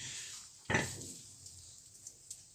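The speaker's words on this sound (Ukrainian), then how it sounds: "Ось такий опорос. Поросятка непогані, довгенькі, хороші." Newborn piglets and a sow in a farrowing pen just after birth, with one sharp close grunt or squeal followed by fainter snuffles and small rustles.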